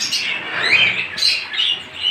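Caged budgerigars and parrots at a pet bird market give high, chattering squawks and chirps, close and fairly loud, overlapping continuously.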